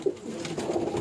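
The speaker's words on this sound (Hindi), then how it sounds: "माशाल्लाह बहुत अच्छा कबूतर है" Teddy pigeon on a rooftop loft cooing, a short low throaty coo close by with soft ambient background.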